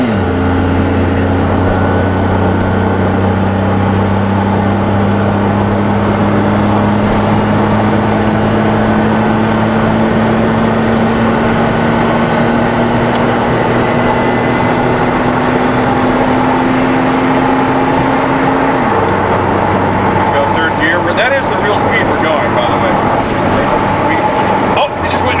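A DeLorean Back to the Future time machine replica cruising fast on a highway at close to 88 mph, a loud steady engine drone with rising pitch and road roar throughout, speech heard over it.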